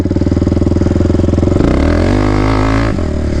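A Predator 560 big bore engine revs hard on the throttle, loud and close, with a rapid pulsing beat that climbs in pitch and then holds at a high, steady roar.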